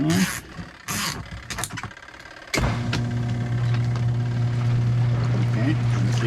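A portable washing machine loaded with t-shirts and socks, running off an inverter, starts with a sudden thump and settles into a loud, steady humming spin; a voice talks briefly beforehand.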